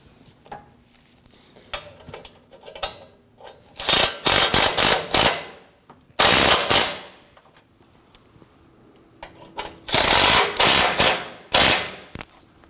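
A ratchet snugs down intercooler bolts on a 2009-2014 Ford F-150 with the 3.5L V6, heard as loud, rapid bursts of clicking in several separate runs with quiet gaps between them.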